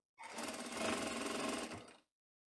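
A sewing machine runs a steady stitching burst along a skirt seam, guided at the presser foot's edge, lasting about two seconds at close range before stopping cleanly.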